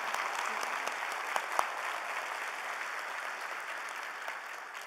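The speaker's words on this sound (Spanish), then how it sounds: "solicitando un aplauso para la doctora Milagro Ortiz Bosch" An audience at a formal presentation on corruption risk applauds for Dr. Milagro Ortiz Bosch, giving a steady, moderately quiet round of clapping with a few sharper individual claps standing out.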